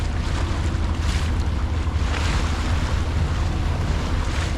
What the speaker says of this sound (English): We're actually motor sailing. Just don't have enough wind.